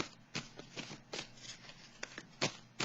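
Tarot cards shuffled and drawn from a psychic tarot deck, a run of crisp papery riffles and slaps at an irregular rhythm, close and fairly quiet, with no talking.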